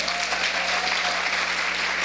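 A crowd at a church gathering applauds for Ivana, a dense, steady wash of clapping that fills the hall evenly throughout, loud and without breaks or talk.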